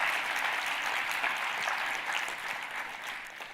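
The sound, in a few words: audience applause at a speech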